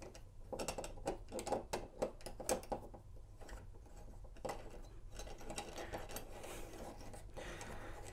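Lishi HU39 pick tool working a Mercedes door lock held in a vise, giving a run of small, close metallic clicks and ticks with irregular rhythm, louder in the first half and thinning to faint scraping and handling noise.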